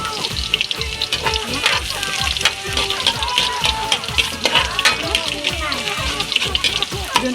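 Garlic sizzling in a pan for sautéed mushrooms, a dense continuous frying crackle with stirring clatter, loud and close under a steady busy background.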